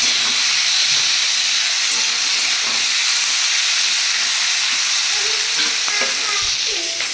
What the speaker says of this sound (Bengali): এখানে এখন শিমটা ভাজবো।